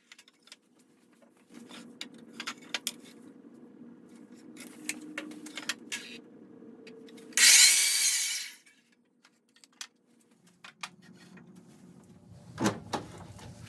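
A power saw cuts leftover red oak to rough length in a workshop. It gives one loud, close burst of about a second, and quieter tool handling and clunks are heard before and after it.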